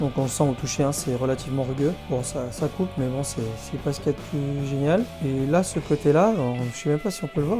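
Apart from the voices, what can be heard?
None of the usual background noises is heard.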